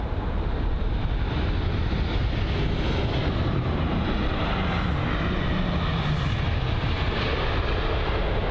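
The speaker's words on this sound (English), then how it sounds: "got a British Airways A320neo featuring the BA Better World livery" British Airways A320neo airliner in Better World livery at London Heathrow, a steady, loud broadband engine roar that holds constant throughout with no voices.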